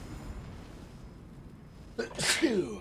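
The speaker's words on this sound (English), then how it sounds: "Hold on, I have to sneeze." A single sharp sneeze near the end, with a quick intake of breath then a loud burst, after a quiet stretch of room noise.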